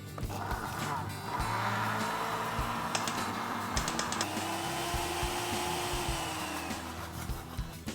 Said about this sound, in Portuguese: Agora só colocar para bater.